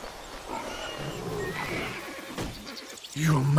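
A horse in the fantasy game Titan Quest Atlantis gives a loud whinny that rises and falls over ambient game sounds, with voices speaking over it.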